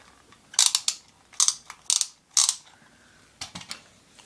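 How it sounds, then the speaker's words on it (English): A handheld socket wrench ratchets in several quick clicking bursts, close and crisp, separated by short pauses, with a final softer pair of clicks. "What is this? A socket wrench?"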